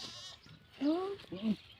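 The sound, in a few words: goat bleating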